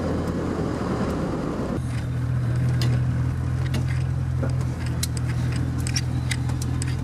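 Turbo diesel Chevrolet Suburban, a 22-foot-long vehicle, driving and turning around, with a steady low engine drone, a shift in pitch partway through and scattered light ticks and rattles inside the cab.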